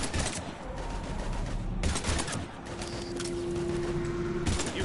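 Sustained automatic gunfire in a Mass Effect 3 Legendary Edition firefight against Husks, steady rattling volleys running almost continuously with a few short pauses and a droning tone underneath.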